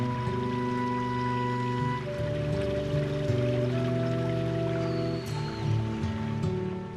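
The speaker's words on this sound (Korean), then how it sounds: "쉼없이 흐르는 물소리는" Continuous mountain stream water flowing in a deep Jirisan valley, a steady rushing and gurgling that carries on without pause for the whole stretch at an even level.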